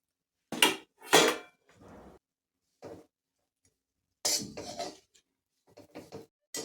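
Dry coconut roasting in ghee in a pan gives a few sharp metallic scrapes and clinks of a spoon against the pan, in short separate bursts with quiet gaps between them.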